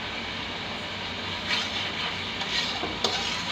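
Spice paste fries in a pan for a drumstick (sajna) bhuna dish, giving a continuous close hiss with a few light scraping stirs partway through.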